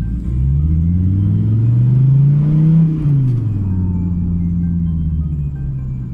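A car drives and accelerates in City mode with a Pedal Commander throttle controller fitted, its engine rumbling steadily with a rising pitch as it pulls through the gears, then easing to a constant drone.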